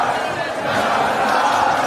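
Crowd noise rises at the close of an under-21 men's basketball game at the Adelaide Easter Classic, a steady wash of cheering and shouting that fills the whole stretch at moderate level.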